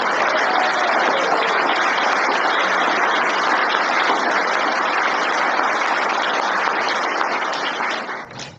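At an annual public meeting, a crowd gives a round of applause for Sarah, a dense, steady wash of clapping that stays loud for several seconds before cutting off abruptly.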